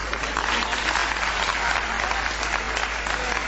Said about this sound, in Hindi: ताली में मजा नहीं आया अभी